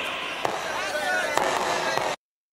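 Fireworks going off at a cartoon football match, a series of sharp bangs over a dense crackling, cheering crowd-like wash, ending in sudden silence.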